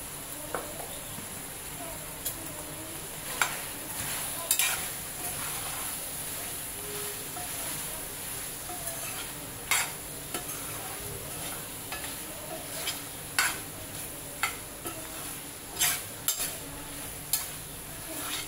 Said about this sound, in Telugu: ఇప్పుడు సిమ్లో పెట్టుకొని అలా ఫ్రై చేద్దాం